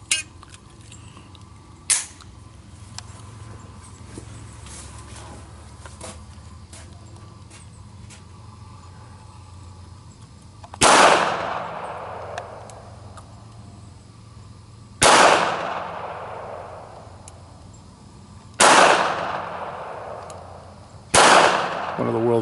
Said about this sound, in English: One of the world's finest 22 semi-auto pistols.